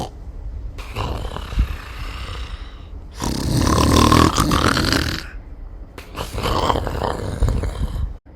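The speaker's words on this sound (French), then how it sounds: "Un ronflement épouvantable accompagna la fin de l'histoire" Loud, rough snoring from a sleeping dog lying with its mouth open, recurring in long drawn-out bursts separated by brief pauses, close and alone with no other sounds.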